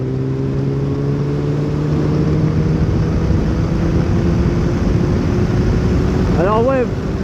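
A restricted motorcycle engine drones steadily while being ridden, a constant rumbling tone mixed with wind rush, with a brief rising rev near the end.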